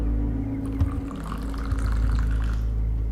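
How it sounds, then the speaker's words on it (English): Water pours and splashes onto a surface close by, a continuous wet gurgling with small drips over a low steady hum. "I'm going to add more water to the pad."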